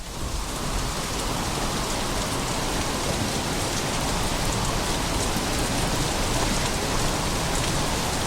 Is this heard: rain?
yes